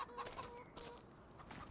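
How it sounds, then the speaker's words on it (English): Chickens cluck faintly around a farmyard in the Farming Simulator video game, soft scattered calls under a steady broadband background noise. "we got chickens all over the place"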